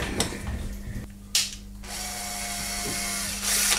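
A power drill drilling a 3.5 millimeter hole in metal freehand whirs steadily after a few clicks and rattles at the start, its motor tone holding level and rising briefly near the end.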